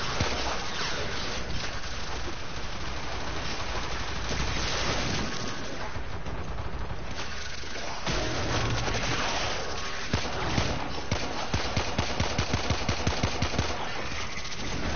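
Sidearm gunfire in the Warframe game comes as dense, loud bursts of rapid shots over a noisy, windy background, with a quicker string of sharp shots near the end.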